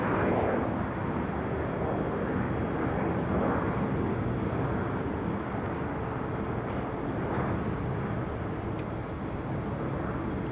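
A Delta Boeing 757-200 jet at LAX roars as a broad, steady rumble at a moderate distance for the whole stretch, with no talk.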